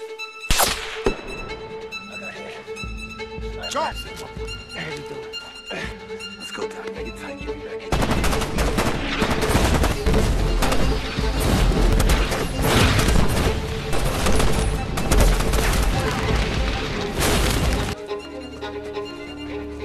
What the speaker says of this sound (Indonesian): tiba-tiba salah satu anggota mereka terkena tembakan, hingga akhirnya terjadilah pertempuran antara pasukan pemberontak dengan pasukan Letnan Waters.